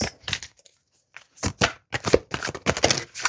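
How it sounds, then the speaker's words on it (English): Crisp riffling bursts of tarot cards being shuffled, a quick flurry, a short pause, then several more rapid shuffles close by. "one more shuffle for some clarifying cards that we'll use at the end"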